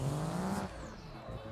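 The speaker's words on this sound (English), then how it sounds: "The engine sounds amazing." Modded truck engine in BeamNG.drive revving hard through a drift spin, tires squealing as the growl rises then fades over about a second and a half, loud and close with no talk.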